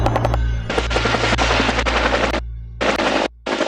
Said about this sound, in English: a helicopter flew towards us,